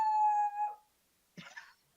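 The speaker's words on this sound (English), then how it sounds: "there's my dog." A dog at home gives a clear, tonal howl lasting under a second, then falls quiet before a short, rougher whine or yelp follows; fairly faint overall, with no talking.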